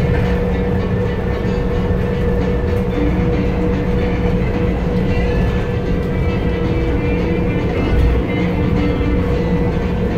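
Las Vegas Monorail train riding along its elevated track, a steady loud rumble and hum of the car in motion from inside, continuous throughout with no talking.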